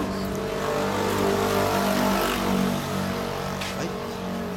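A 2013 KTM 200 Duke supermoto with a Striker titanium exhaust runs steadily with a low, throaty exhaust rumble and a few brief revs, loud and close throughout.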